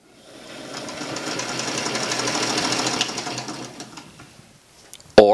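An antique sewing machine running on a motorized base, a close, rapid mechanical chatter that builds up, holds steady, then slows and fades before a final sharp click.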